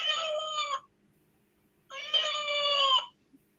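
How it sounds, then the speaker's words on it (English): A cat meows twice as a played sound effect: two clear, drawn-out mewing calls, each a little under a second long, separated by about a second of silence, close and fairly loud with no talking. "and this is meow."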